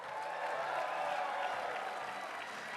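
Crowd at a campaign rally in Calgary applauding, a dense, continuous wash of clapping that stays even in level across the whole stretch, heard from a moderate distance.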